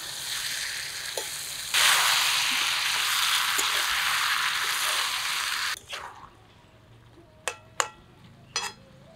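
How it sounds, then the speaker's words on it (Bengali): Young tree-grown jackfruit is stir-fried in spice paste with mutton oil, giving a steady, loud sizzle for several seconds. It then drops to quiet, with a few sharp scrapes and clinks of stirring. "এখন মশলার সাথে ভালোভাবে মিশিয়ে মিশিয়ে কষিয়ে নেব।"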